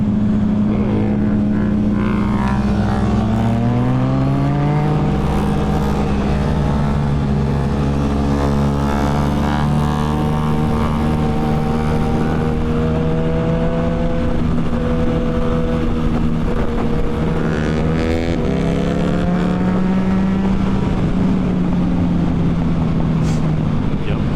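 A 2014 Yamaha FZ-09 motorcycle revs hard and accelerates through rising and falling engine tones, loud and close, running continuously throughout.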